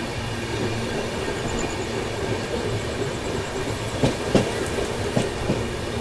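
An express train runs steadily while overtaking another train, with a continuous rumble of wheels on track and occasional louder clacks near the end, close and without talk.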